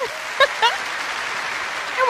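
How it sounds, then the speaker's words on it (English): A studio audience at a talk show applauds steadily throughout, with a dense, even wash of clapping. Voices call out and cheer over it. "give a big round of applause for Adam White"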